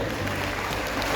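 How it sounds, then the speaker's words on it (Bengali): Audience applause at a student award ceremony held by Siliguri Municipal Corporation, a dense, steady wash of many hands clapping at once, close and fairly loud, with no voices over it. "ঘুরে একটা হাততালি হোক শিলিগুড়ি মিউনিসিপাল কর্পোরেশন"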